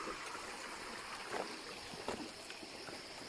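Steady broadband rush of a river stream flowing near Bride's Pool waterfalls, a continuous wash of water with faint trickles, fairly quiet and even throughout.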